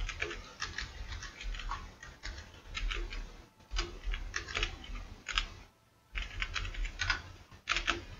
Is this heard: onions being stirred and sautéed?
no